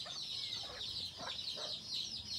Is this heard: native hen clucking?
yes